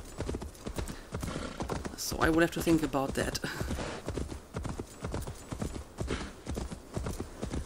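Horse hooves clip-clopping in the video game Assassin's Creed Valhalla, a brisk, steady rhythm of hoof strikes with a brief whinny partway through, under someone talking.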